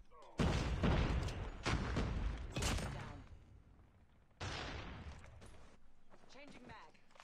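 Frag grenade explosions in a first-person shooter video game: several heavy booming blasts with rumbling tails, one cluster early and another a few seconds later, alongside other game sounds.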